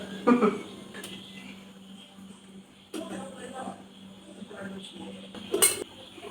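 A spoon clinks and scrapes against plates and dishes in a few sharp bursts as theeyal curry is ladled over rice, with quieter shuffling between them.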